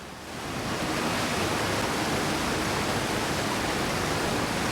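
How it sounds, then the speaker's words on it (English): Loud waterfall in the Undertale video game, a dense, steady roaring rush that rises quickly at the start and then holds evenly, heard alone without talk. "This waterfall's very loud."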